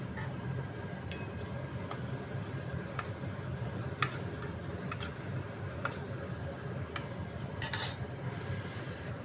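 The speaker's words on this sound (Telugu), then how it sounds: "ఇందులో ఆయిల్ లేకుండా నెయ్యి కూడా లేకుండా రవ్వ అనే దాన్ని ఫ్రై చేసుకుంటున్నా." Semolina dry-roasts in a pan without oil or ghee over low heat, giving a faint continuous rustle with scattered light clinks and taps of a spoon against the metal.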